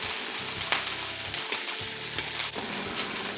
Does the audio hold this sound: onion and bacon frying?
yes